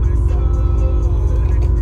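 A warmed-up 2009 Sierra truck engine idles with a steady low rumble, close and continuous, with a faint tonal hum above it.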